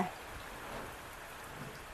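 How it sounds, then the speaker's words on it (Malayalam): Steady, dense rain pouring down, a constant hiss of drops without pause. "നല്ല മഴയാണ്"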